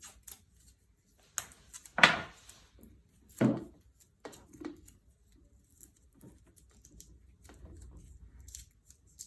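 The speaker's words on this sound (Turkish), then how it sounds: "Bant atıyoruz." Sporadic crinkling and sticky tearing sounds of electrical tape being pulled and wrapped around cables, with a few sharper rips, close up and without speech.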